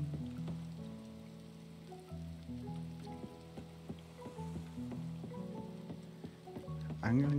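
Steady rain falling in the farming video game Coral Island, a soft continuous patter running the whole way under background game music.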